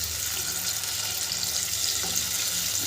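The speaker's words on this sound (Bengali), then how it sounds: "এগুলো ভেজে নেবো" Steady sizzling of chicken frying in hot oil in a wok, a continuous crackling hiss with faint clinks, close by and without talk.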